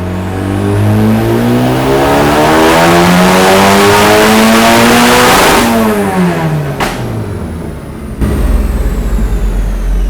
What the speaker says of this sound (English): Rich misfire.